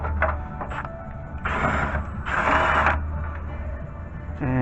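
Ratchet wrench loosening an oil pan bolt on a Chevrolet Silverado with a 6.0L, 5.3L or 4.8L engine, a close, steady clicking with a couple of louder grinding stretches.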